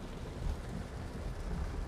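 Heavy rain hisses as a broad, steady wash while a vehicle drives along the I-270 highway, continuous and fairly faint with no talking.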